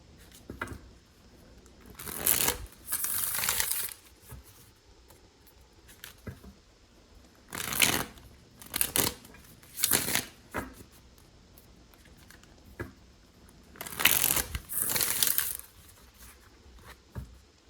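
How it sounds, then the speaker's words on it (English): A tarot card deck is shuffled by hand in several separate bursts of close, crisp riffling and card slaps, each lasting about a second, with quiet pauses between them and no voices. "3 more shuffles."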